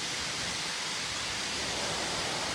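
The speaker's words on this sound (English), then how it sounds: "They're sandblasting this old L and painting it" Sandblasting on an old elevated rail structure at State and Lake during construction, a loud, continuous hiss that fills the whole stretch without a break.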